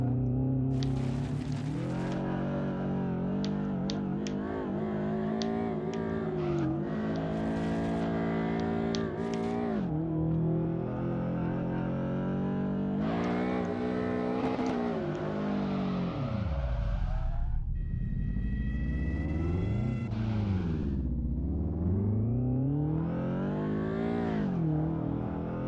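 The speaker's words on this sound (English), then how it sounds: "I'm gonna do some basic drifting around this track" Car drifting around a track, a loud engine revving hard through repeated climbs and drops, with sweeping pitch swings as the throttle is worked and tires slide, continuous with no talking.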